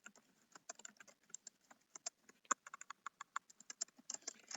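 Alt text being typed on a computer keyboard for a drawn image in Word 2019, a steady run of close, crisp key clicks in an irregular rhythm, with no talking.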